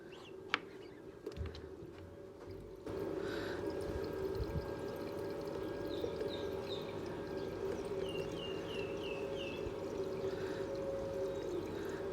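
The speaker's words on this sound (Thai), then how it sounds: "เติมน้ำให้ได้ระดับนะครับ" Water trickles and pours into a car battery cell being topped up to the fill line, a steady, moderately close gurgling stream that starts a few seconds in after faint clicks, with light bird chirps in the background.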